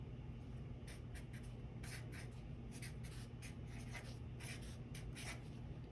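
A music scale being written out by hand, quiet scratchy pen or pencil strokes in short bursts with small pauses, faint and close against a low background hum.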